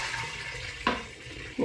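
Homemade summer garden fruit wine, thick and syrupy, gushes steadily into a glass demijohn, a continuous close pouring rush broken by a couple of soft clunks.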